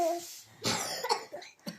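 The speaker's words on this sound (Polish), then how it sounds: "Wspaniale, kaszlemy." A child coughs several times, short harsh bursts spread across the moment, with a bit of speech-like vocal sound mixed in.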